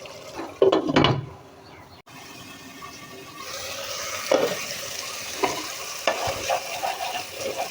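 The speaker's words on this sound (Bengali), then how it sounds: "এটা কষানো হয়েছে, তেল ছিটকে বের হচ্ছে।" Crab masala being cooked down in oil in a pan after the lid comes off, a bright spattering sizzle with scraping stirs and a clatter near the start, moderately loud and with no talking.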